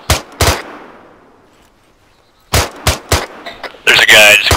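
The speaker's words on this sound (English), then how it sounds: "What are you guys shooting at?" Sharp, close gunshots in the ArmA 3 military video game: two quick shots, a fading echo tail, then a cluster of four or five shots followed by a louder burst, with voices present.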